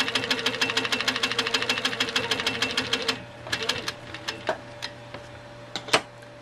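A sewing machine stitching in the ditch along a quilt seam with a ruler foot runs in a fast steady mechanical patter for about three seconds, then slows to a few scattered single stitches and clicks.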